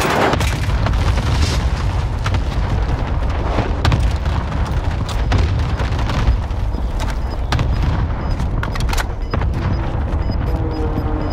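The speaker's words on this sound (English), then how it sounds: "Need an airstrike on my position now." Airstrike explosions and gunfire in Call of Duty Vanguard Warzone, a dense continuous barrage of booms and sharp cracks, loud and close with no talk over it.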